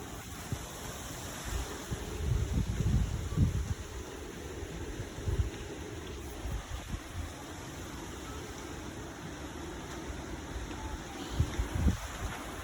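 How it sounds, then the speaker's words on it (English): Wind blows outdoors on a breezy day, rumbling in low gusts against the microphone with quiet steady hiss in between, no voices present. "it's a little bit windy."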